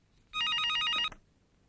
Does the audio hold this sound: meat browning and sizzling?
no